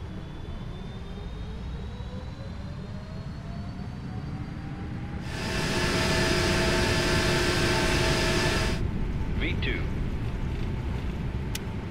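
Airplane engines droning on the runway on a flight from Dominica to Guadeloupe, a steady cabin roar that swells louder for a few seconds midway, with voices at times.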